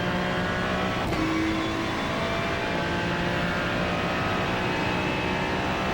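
A Ferrari 296 GT3 race car in iRacing at Oulton Park drones steadily and loudly under continuous engine noise, with a brief sharp transient near the start and no talk.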